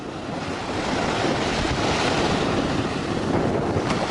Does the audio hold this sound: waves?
yes